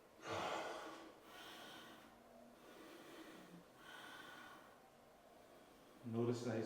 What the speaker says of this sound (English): he's practicing breathing out of his nose and not out of his mouth